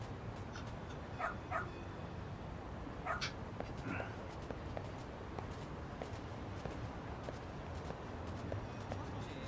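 A dog in the Lost Judgment video game barks and yips in a few short bursts over steady background noise and footstep-like ticks, fairly faint and interspersed with whimpers.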